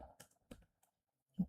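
A few quiet, close keystrokes are typed on a computer keyboard while entering a command, as sparse taps with a firmer final press.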